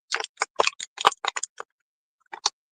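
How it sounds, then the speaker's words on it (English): Crisp crunching bites of food sound close to the microphone, a quick run of sharp, irregular crackles followed by a pause and then a couple more crunches. "Let me do it, crunch it up some more."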